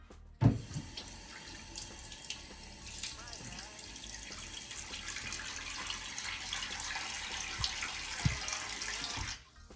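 Tap water runs steadily into a sink for face wetting, a continuous close hiss with a few splashes and knocks, with no talk.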